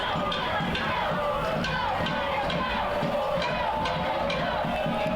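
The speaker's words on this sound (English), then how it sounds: "Crowd really trying to rev this team up." Soccer crowd in the stands cheering on its team during a Foothills FC versus Chicago FC United match, a constant roar of massed voices with shouts and chants, fairly distant and continuous, under faint commentary.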